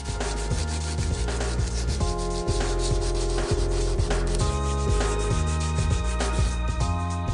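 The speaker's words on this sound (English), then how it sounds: "I'm going to have to sand through the top layers of paint, perhaps even some filler, and down to the metal" Sanding through the paint and filler on a car body panel down to bare rusted metal, a steady, loud abrasive rubbing that continues without pause, close up.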